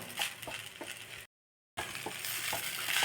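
A rice and coconut batter being sautéed in a pan gives a dense, steady sizzle with scraping stir strokes, broken by a brief moment of silence partway through.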